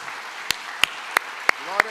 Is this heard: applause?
yes